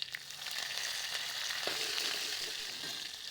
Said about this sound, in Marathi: थोडासा हिंग टाकायचा. कढीपत्ता घातलेला आहे.